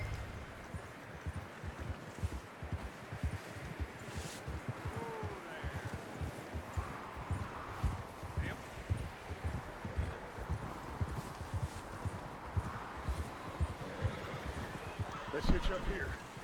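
Horse hooves clip-clop steadily across the ground in Red Dead Redemption 2, a continuous moderate rhythm of hoofbeats with light ambient wind, while people talk over it.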